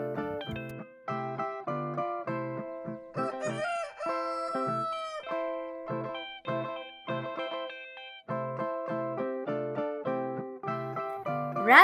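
A rooster crows, a drawn-out cock-a-doodle-doo rising and falling around the middle, heard over a bouncy, rhythmic music backing that plays throughout.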